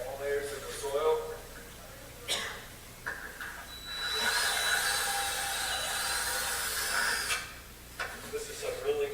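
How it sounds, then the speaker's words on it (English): A power drill or auger bores about six inches into soil to take a soil sample, with a steady grinding whir running several seconds through the middle and shorter bursts around it, under some background noise and talk. "So how we soil test is we drill 6 inches into the ground."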